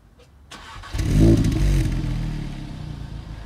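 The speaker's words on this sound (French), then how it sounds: "Et donc regardez déjà au démarrage ce que ça donne." An Audi S3 engine cranks with a click and whir, then fires into a loud, deep rev before settling into a steady rumbling idle nearby.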